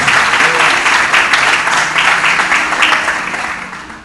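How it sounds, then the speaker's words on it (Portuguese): A church congregation applauds in worship, a loud, full burst of many hands clapping that stays dense before gradually fading, with some voices in the crowd. "Aplauda Jesus, porque Ele é merecedor de toda a honra, toda a glória e todo o louvor."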